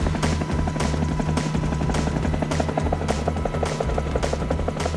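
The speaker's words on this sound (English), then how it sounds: "Riding in Black Hawk helicopters" Black Hawk helicopter in flight over Iraq, its rotor blades thumping in a fast, steady rhythm over a heavy engine drone, loud and close with no voices.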